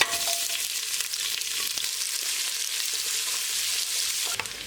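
Two large sliced onions hit hot oil in a pan for mandi, giving a steady bright sizzle and crackle with a faint low hum beneath and occasional stirring scrapes, close and continuous.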